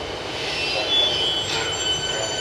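A Siemens electric train bound for Pakenham arrives at Westall station: a steady near rumble of wheels on rails with high, thin wheel squeal drifting in and out, and no voices.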